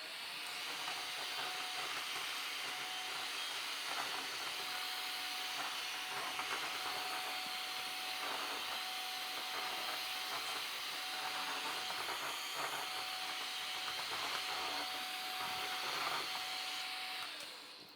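A Shark HydroVac wet vacuum runs steadily to pick up spilled cereal, a loud continuous whine and hiss with faint crunching and clicking as the cereal is sucked up, ending as the motor cuts off.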